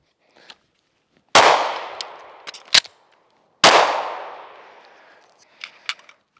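A Springfield Echelon pistol fires two loud, sharp shots about two seconds apart, each with a long ringing decay, between lighter metallic clicks and clanks as the magazine is emptied. No voices.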